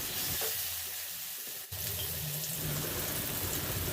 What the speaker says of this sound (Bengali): সর্ষেটা ফুটে উঠলে আমের টুকরোগুলো দিয়ে 1 মিনিট মতন হাই ফ্লেমে নাড়িয়ে নেব।